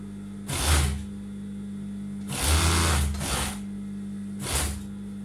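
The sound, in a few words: sewing machine stitching shoulder seam of tunic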